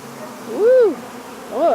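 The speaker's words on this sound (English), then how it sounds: "Sounds like a load of bees" Honey bees buzzing around an open hive during hands-on beekeeping work, loud droning hum with a close bee sweeping past, rising and falling in pitch, and another pass near the end.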